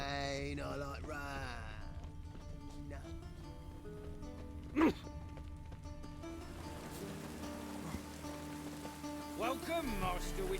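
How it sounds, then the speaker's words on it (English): Rain falls in The Witcher 3: Wild Hunt as an even, continuous patter, kept in the background while in-game voices talk and musical tones play over it. "Rain, I like rain."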